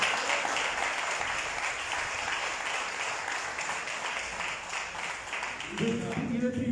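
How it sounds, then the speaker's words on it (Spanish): A church congregation claps loudly and steadily in a dense wash of applause, and near the end a voice starts speaking over the fading clapping. "Denle un fuerte aplauso al Señor."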